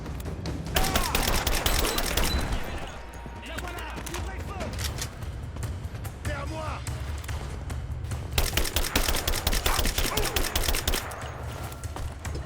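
Sustained bursts of assault rifle fire in the action video game Rise of the Tomb Raider, loud and dense, with rapid shots rattling in long volleys alongside other game noise and a voice speaking French.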